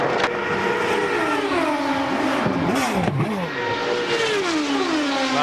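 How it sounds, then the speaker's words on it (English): An Indy race car engine at the 2003 Indianapolis 500 keeps running despite having no power, its loud note wavering and dipping in pitch as revs rise and fall, with no speech. "the engine is running. You can hear it running, but he's actually got no power."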